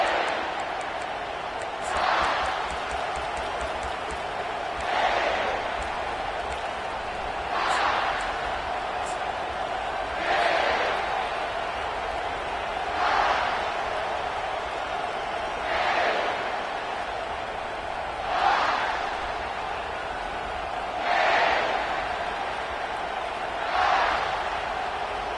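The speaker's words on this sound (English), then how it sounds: "This crowd going to try to make life miserable for these guys." Stadium crowd at a Georgia Tech college football game, a steady distant roar that swells in repeated rhythmic surges every few seconds, with a commentator talking over it.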